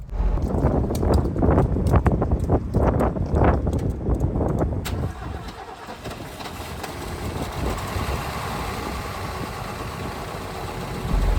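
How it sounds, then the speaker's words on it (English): 1965 Mercedes-Benz 230SL roadster engine cranking with a run of rhythmic starter chugs, then catching and settling into a steady, moderately loud idle, close up with no talking. "So no trouble at all starting the car up"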